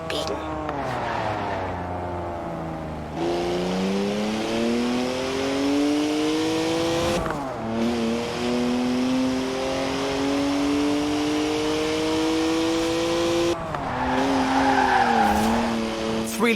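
A car with a three-litre twin-turbo straight six making 335 horsepower drifts, its engine droning and rising in pitch with shifts and its tires squealing, loud and sustained, with someone talking over it.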